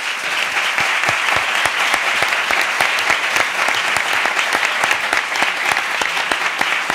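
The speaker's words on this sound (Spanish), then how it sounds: "Yo les pediría a ustedes un aplauso tanto para la organización como para los intervinientes." Sustained applause from an audience at the close of a formal presentation event with a European Parliament elections debate, dense and steady clapping filling the room at close range for the whole stretch.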